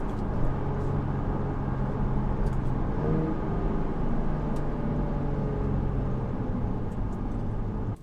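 A Jaguar F-Type V6 on a highway revs through a couple of downshifts. Its engine makes a steady, moderately loud drone heard from inside the car, with road noise underneath and no clear separate revs.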